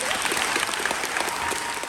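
A concert-hall audience at an improv comedy show in the Poltava Philharmonic applauds a couple, a dense, steady burst of clapping filling the room with no break.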